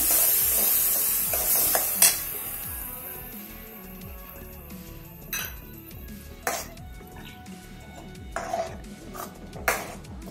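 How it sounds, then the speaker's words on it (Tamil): Ground spice paste for goat trotter curry sautés in a pot, a soft continuous sizzle broken by sharp metal ladle scrapes and clinks against the vessel at irregular intervals, close and without speech. "இது நல்லா வதக்கிக்கோங்க"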